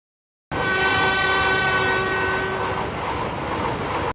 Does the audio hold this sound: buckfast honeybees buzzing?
no